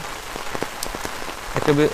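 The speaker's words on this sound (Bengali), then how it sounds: "সেই বৃষ্টি দেখেন বৃষ্টির কণা কিন্তু তেমন বড় না ছোটো ছোটো কণা" Light rain with small drops pattering on a surface in a village, a steady soft hiss with scattered close drip hits and a brief murmur of voices near the end.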